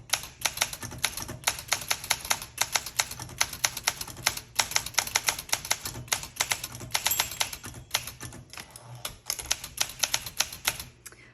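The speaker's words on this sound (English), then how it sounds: "You can just start typing." Rapid keystrokes on a 1966 Olympia SM9 manual typewriter, a steady run of sharp clacks close to the listener with brief pauses between words and no speech.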